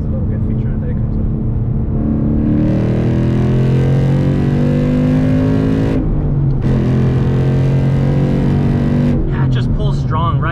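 A 435 hp V8 Ford Mustang pulls hard through the revs, its loud, steady engine roar climbing in pitch with a brief break around the six-second mark, then dropping off near the end as the throttle lifts.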